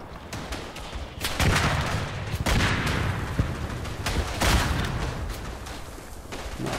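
Mortar artillery barrage in the World War I video game Verdun on the Argonne map, several loud booming impacts with crackling gunfire over nearly seven seconds, no talk.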